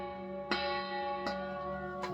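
Bells ring in three evenly spaced strikes, each leaving a long, shimmering tone that sustains under the next, close and fairly clear.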